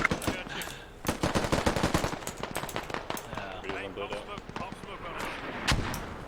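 Rapid bursts of automatic gunfire from a video game battle set at Culp's Hill, loud, dense volleys and single cracks overlapping almost continuously, with voices talking underneath.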